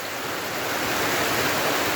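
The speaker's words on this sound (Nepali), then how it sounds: "यस्तो नमजाले झरी पऱ्यो" Heavy monsoon downpour, a dense, constant roar of rain hissing steadily and loudly with no pauses or voices.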